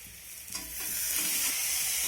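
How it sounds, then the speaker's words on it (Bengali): Chopped tomatoes tossed into a pan of frying onions for chicken curry set off a rising hiss that settles into a loud, steady sizzle, with stirring scrapes close by. "টমেটোটা দিয়ে এইভাবে আমি নেড়ে চেড়ে নেব।"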